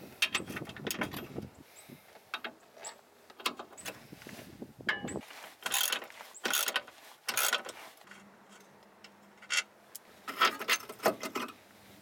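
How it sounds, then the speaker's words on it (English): Work on a BMW E34 lower control arm, where a breaker bar frees a corroded bolt with a run of close metallic ratcheting clicks and clanks in uneven bursts, then a brief steady hum and a few more clicks. "I'm going to recommend using a breaker bar, and that's what I'm going to do to get that unstuck because it's got a little bit of corrosion on it"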